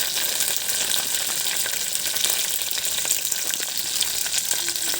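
Curry leaves with green and dried chillies frying in hot oil, a loud, dense, steady sizzle with faint crackles and no talking.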